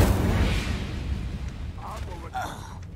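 A fire spell cast in Hogwarts Legacy sets off a loud burst and a rumbling whoosh that fades over a few seconds, with a couple of brief sharp effects near the end.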